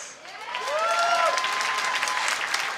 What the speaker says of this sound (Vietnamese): Vậy xin mọi người cho một tràng pháo tay một lần nữa cho 12 models.